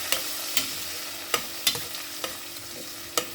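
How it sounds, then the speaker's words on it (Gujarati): Ginger, chillies and asafoetida sauté in a pan under a constant gentle sizzle, with a spoon scraping or tapping the pan every half second or so in an irregular rhythm, close and clear, no talk. "અને એને હવે બધું આ થોડુંક સતળવા દઈશું"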